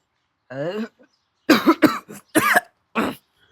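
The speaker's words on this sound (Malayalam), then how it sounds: "ഡാ ചുമക്കണ് വയ്യാണോ നിനക്ക്" A man coughs indoors, a run of four or five harsh, close coughs in uneven rhythm following a brief vocal sound, each burst loud and separated by short silences.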